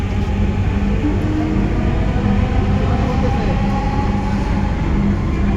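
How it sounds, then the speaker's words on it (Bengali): Dhaka metro rail train running toward Motijheel, a steady loud rumble and hum of wheels on track heard from inside the carriage, continuous throughout with faint tonal whine. "This train is bound for Motijheel."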